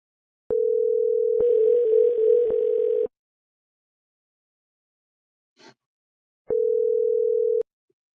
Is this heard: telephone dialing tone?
yes